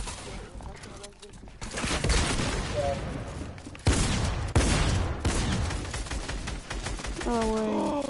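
Rapid bursts of gunfire in the video game Fortnite crackle through most of the stretch, dense and loud, with French-speaking voices talking over the shooting.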